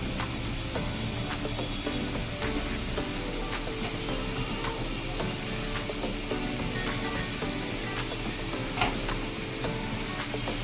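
Prawns hit fried spice paste in oil for a prawn malai curry, producing a continuous dense sizzle with scattered small crackles and pops, close and fairly even throughout.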